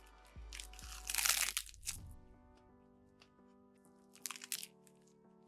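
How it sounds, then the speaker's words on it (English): Crisp crunching as nori seaweed wrapped around an onigiri rice ball is bitten and chewed, a few loud crackly bursts close up with quiet crinkling in between. "I think the sound of eating nori is good for ASMR"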